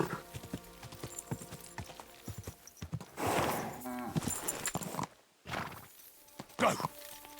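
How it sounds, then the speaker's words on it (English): Horse hooves clip-clop in a steady walking rhythm in the medieval game Kingdom Come: Deliverance II, close and clear, with a soft whinny, brief voices and a short break in the sound. "Easy, good horse."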